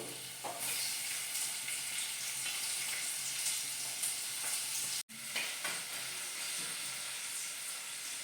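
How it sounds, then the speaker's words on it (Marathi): Tomatoes sizzling in a pressure cooker while pulao is being made, a steady close frying hiss with stirring scrapes throughout, broken by one brief dropout near the middle. "आता आपण टाकूया टोमॅटो"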